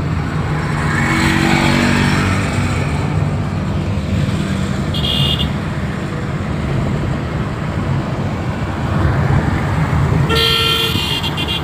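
A driving-school car moving through traffic, with continuous engine and road rumble close by and several short horn toots from surrounding vehicles partway through and near the end.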